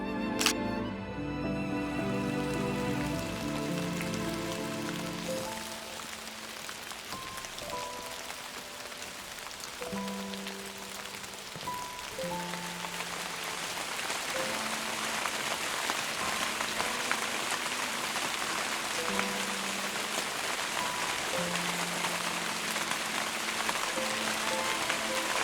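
Rain falls steadily in the Great Bear Rainforest, a constant, fairly close hiss of drops over soft tonal music.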